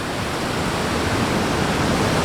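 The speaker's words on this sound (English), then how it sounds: "So I'm at the intersection of all of Brownstone Falls and the Bad River." Brownstone Falls pouring into the Bad River at Copper Falls State Park, a steady, loud, unbroken roar of rushing water filling the whole moment without any pause.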